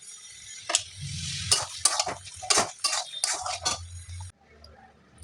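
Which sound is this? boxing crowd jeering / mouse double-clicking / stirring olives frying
stirring olives frying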